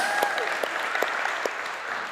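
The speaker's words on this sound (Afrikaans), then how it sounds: "kom ons gee vir hom 'n lekker hande klap" A church congregation applauds a speaker, steady clapping filling the room for a couple of seconds, with a few sharper individual claps standing out.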